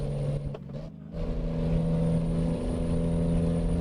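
A Cummins M11 heavy truck engine in American Truck Simulator drones steadily at low pitch, briefly dipping before settling into a constant, rumbling hum.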